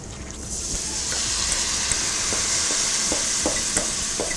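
Carrots and parsnips sizzle steadily in a hot pan, a continuous crackling hiss with occasional soft stirring clicks, close up and with no talking.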